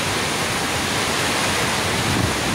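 Water rushing and filling a flooding pig pen, a loud, continuous broadband roar of flowing water close by, with no talking over it.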